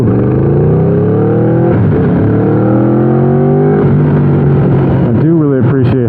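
A 2015 Aprilia RSV4 with its V4 engine breathing through an Austin Racing exhaust revs continuously and loud, pitch climbing through gears with brief drops at shifts and a sharp blip near the end.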